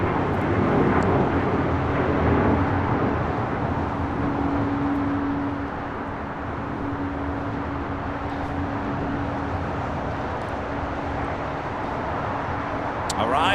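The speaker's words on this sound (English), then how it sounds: "We have the San Francisco Giants livery now taking off to Portland, Alaska 1315 on the MAX 9" An Alaska Airlines Boeing 737 MAX 9 in San Francisco Giants livery takes off at LAX on a windy afternoon, its engines a steady broadband roar with a low tonal hum, holding fairly constant then easing slightly, with faint talk beneath.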